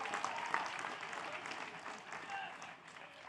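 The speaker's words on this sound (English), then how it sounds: "That's an applause line." A commencement audience at a university college of business ceremony breaks into applause, a broad, steady wash of many hands clapping at a distance, with voices mixed in beneath it.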